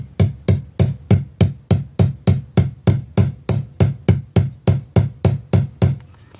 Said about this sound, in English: take our chasing hammer and a steel bench block, and we're going to go lightly hammer the sides of the loop